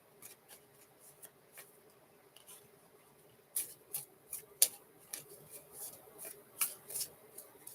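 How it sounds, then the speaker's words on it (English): Tarot cards are shuffled in a series of soft, quick riffles and taps, sparse at first then more frequent, close and quiet. "Let's shuffle some more cards"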